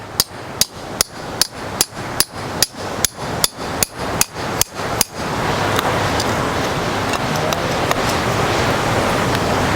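Breaking fractured rock loose while prospecting for gold: about thirteen sharp, evenly spaced hammer strikes on rock close up, then wind noise and faint scraping.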